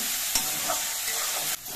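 Malabar spinach seeds fry in a hot wok, giving a continuous bright hiss, while a spatula scrapes and stirs through them, with two sharper scraping strokes standing out close by.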